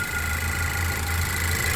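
A 2017 Ford Focus with a 2.0 engine and automatic transmission idles steadily up close, a continuous low hum with a faint whine above it and no talk.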